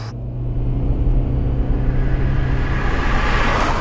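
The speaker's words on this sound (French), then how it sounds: "Ce qui fait la particularité des hybrides Toyota, et notamment des Prius, c'est ça. Ce bruit de... moulinette permanente." Steady engine-like drone and whir from a Toyota Prius hybrid drivetrain, heard from inside the car: a constant, even hum that holds level throughout with no speech over it.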